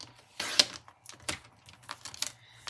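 Cutting a 2.5 by 5.25 inch piece of white card stock for a fold card's writing insert, heard as a few short crisp scraping and snipping bursts, close and fairly quiet, with no talk.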